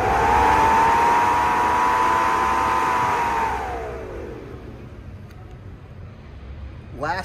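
A small brushed electric fan whose speed follows air temperature gives a steady, close humming whine that holds for a few seconds, then winds down and fades into quiet, ending with a brief click.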